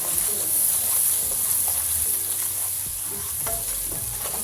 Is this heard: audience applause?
no